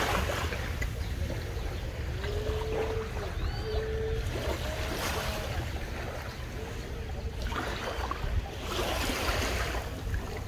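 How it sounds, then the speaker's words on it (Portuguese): Strong ocean waves at Pedra do Sino beach on Ilhabela, Brazil, a steady broadband surf wash with swells rising and falling, moderately distant and fairly faint, with some voices in the background. "as ondas estão muito fortes"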